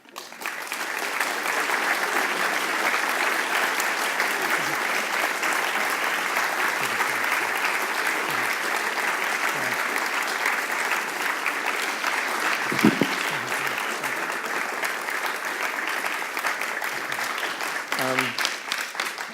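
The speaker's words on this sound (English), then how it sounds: "despite the length of the applause" Prolonged audience applause after a lecture, a dense, sustained wall of clapping held at an even level, with a few faint voices and a knock near the end.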